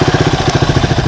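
A Suzuki DR200ES motorcycle engine idles steadily nearby, its low, even chugging pulse repeating in a quick regular rhythm, with no talk over it.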